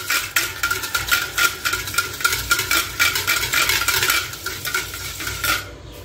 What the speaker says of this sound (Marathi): आता सगळ्यात अगोदर हे जे दही आहे ते आपण फेटून घ्यायचे, म्हणजे ते छान स्मूथ बनेल